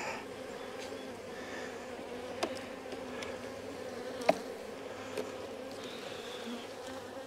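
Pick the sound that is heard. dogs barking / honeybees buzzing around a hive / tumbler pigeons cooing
honeybees buzzing around a hive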